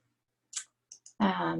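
A few sharp, isolated clicks of a computer mouse in a quiet room, followed by a person starting to speak.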